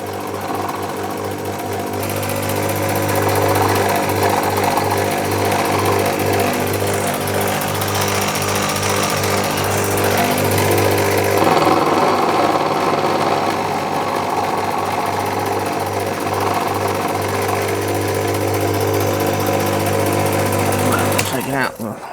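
A machine cuts a flat on a metal rod for a finger-engine build, giving a loud, steady mechanical hum and whine that runs throughout, under a person talking, before stopping abruptly at the end.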